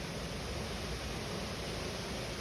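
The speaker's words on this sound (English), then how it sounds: "one of the main attractions here in Khao Yai National Park is the Khao Yai Waterfalls. You can see them behind me." Waterfalls in Khao Yai National Park, Thailand, pour with a steady, dense rush of falling water that fills the whole scene, constant and unbroken with no voices.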